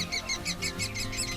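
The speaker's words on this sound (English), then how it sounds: "woodpecker nest. You can hear the little babies chirping away" Woodpecker chicks chirp from inside a tree-hole nest in a steady run of rapid, high, regular peeps, moderately near and continuous, with no talking.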